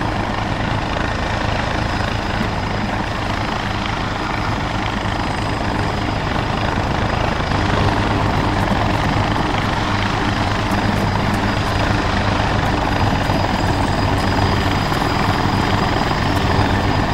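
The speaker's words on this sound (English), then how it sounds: "That'll force the helicopter to get down and land." A helicopter comes down to land in a video game, its rotor and engine drone steady and loud throughout with no speech over it.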